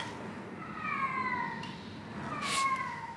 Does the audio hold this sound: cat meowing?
yes